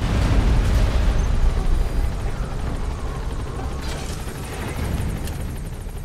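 Helicopter in the Metal Gear Solid 5 video game, a loud close rotor roar with rumbling low thuds and bursts of blast-like noise, steady for several seconds with no voices.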